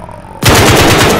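Loud, sustained automatic fire from an AK-12 rifle in Call of Duty: Modern Warfare (2019), a dense rapid burst that cuts in abruptly and continues without pause, close and harsh.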